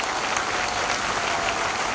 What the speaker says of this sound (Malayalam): കൈയടിച്ച് ദൈവത്തെ ഒന്ന് മഹത്വപ്പെടുത്താം.